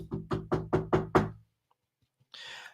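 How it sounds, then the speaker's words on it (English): Six firm knocks on a wooden surface in a quick, even rhythm, close and clear, followed by silence and then a brief soft rustle. "I knocked on wood"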